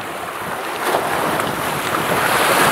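Steady ocean surf rolling onto Makalawena Beach on Hawaii's Big Island, a continuous loud wash with wind buffeting the microphone and no voices.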